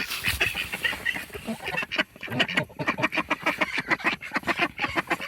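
Geese and ducks under a snowy hen house quack and honk in a busy run of repeated calls, close by and fairly loud, with no one speaking.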